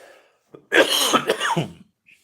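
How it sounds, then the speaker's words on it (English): A single fit of harsh, raspy coughing, close and loud, a few bursts running together before silence. "I'm just going to cough the more I talk"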